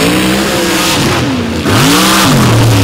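A loud dirt drag racing engine revs hard and close, with rising and falling pitch as the throttle opens, eases briefly, then roars again at an ultra quick dirt drag event.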